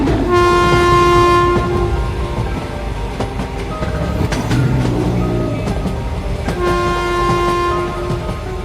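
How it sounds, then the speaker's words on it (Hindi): Cartoon train pulling away and running, a loud horn blast at the start and again near the end, with rumbling wheels and clickety-clack rhythm between, no speech. "तभी ट्रेन शुरू हो जाती है।"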